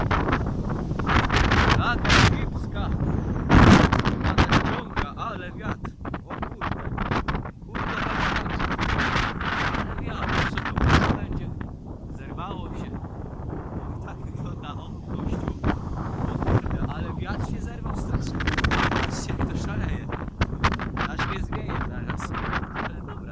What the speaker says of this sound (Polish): O, zerwał wiatr, matko boska.